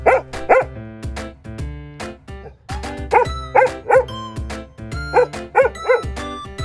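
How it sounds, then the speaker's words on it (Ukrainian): A dog barks in quick pairs and triplets over a bouncy musical backing, the barks sharp and close. "Собака гавкає. Гав-гав."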